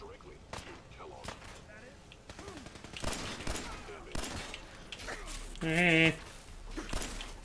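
Gunfire from the video game Fallout 4, with a shotgun among the weapons, comes as a series of sharp, loud shots at irregular intervals, mixed with other game sounds and a brief whining tone near the end.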